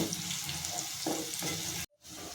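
Small drumstick-flower fritters fry in hot oil in a wok, giving a steady, dense sizzle that drops out briefly near the end before resuming. No voices.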